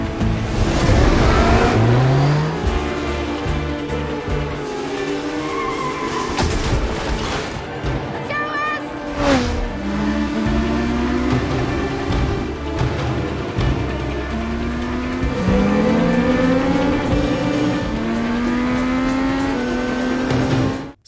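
Motorcycle race getting underway in a film, a street racer turned professional rider: loud engines revving and rising in pitch over a dense, continuous roar, with machines sweeping past and swelling again throughout.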